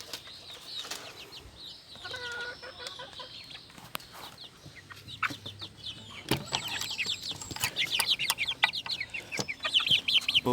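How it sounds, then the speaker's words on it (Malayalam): Two-month-old native chicks, four of them, cluck and peep in a farmyard, with scattered soft calls and brief wing flutters building in density and loudness toward the end. "അപ്പോൾ ഇതാണ് നമ്മളെ നാടൻ കോഴി കുഞ്ഞുങ്ങൾ."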